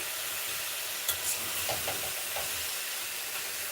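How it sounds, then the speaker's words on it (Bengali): Shredded cabbage fries in a pan at home, a soft continuous sizzle with a few light scrapes and taps of a spatula as it is stirred, moderately quiet and without talk. "আমি বাঁধাকপি ভাজি করছি"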